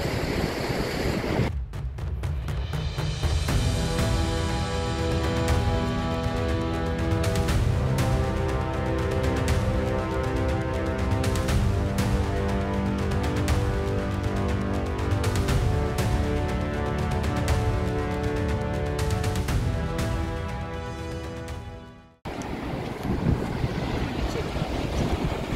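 A powerful waterfall, among the highest falls in Canada, roars loudly and continuously up close with gusty wind buffeting the microphone, a sharp drop-out near the end before the rush returns.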